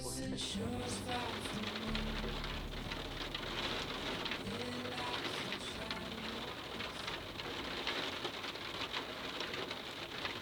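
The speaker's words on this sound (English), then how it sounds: "It's really windy and heavy rain, and the wind's blown all the rain towards the side of the cottage." Heavy rain driven by strong, stormy wind pounds against the side of a Scottish cottage, a dense, steady roar of drumming water and gusts that stays loud and unbroken throughout.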